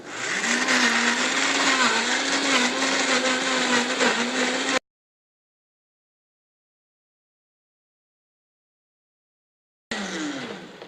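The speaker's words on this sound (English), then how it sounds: "we're going to go ahead and blend this up" A blender whirs loudly as it purees ripe bananas and coconut into ice cream, a steady motor drone for about five seconds. Silence follows, then the motor briefly restarts near the end.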